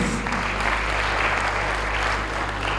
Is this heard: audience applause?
yes